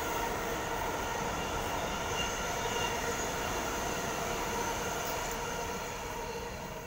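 A Sydney Tangara electric train passes through Petersham station with a continuous loud rumble and wheel roar that holds steady for several seconds before easing slightly, with no talk.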